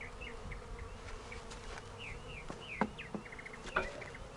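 Honey bees from a swarm buzzing around an open hive with honey, a faint steady drone with individual bees zipping past up close, plus scattered bird chirps in the background.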